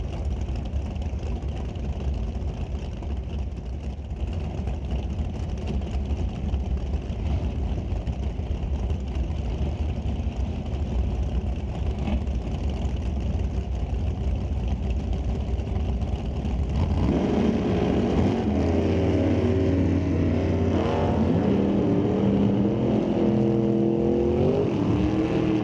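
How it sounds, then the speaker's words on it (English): A 1969 Chevrolet Camaro and a 1967 Chevrolet Camaro sit at the line at an NHRA drag race, their engines rumbling and idling loudly before revving hard near the end. "Now we have Larry Miner, 1969 Camaro. Lined up next to Fred Hoffman, 67 Camaro."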